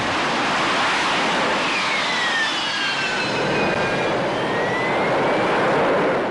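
Harrier jump jet descending in a vertical landing, its engine a steady, loud broadband roar with a high whining tone sweeping down and up through the whole stretch, no voices.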